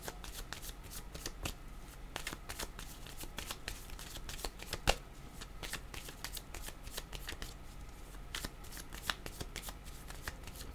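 Oracle cards being shuffled by hand, a quiet, steady run of soft riffling flicks and taps, close and continuous, with no talk over it.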